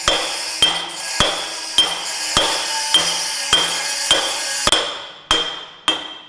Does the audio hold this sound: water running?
no